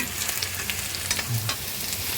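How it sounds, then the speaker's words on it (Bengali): Long strips of potato fry in oil in a pan until browned, giving a dense, steady sizzle with light scraping stirs and no talking. "এবার আলুগুলোকে একটু লাল লাল করে ভেজে নিচ্ছি"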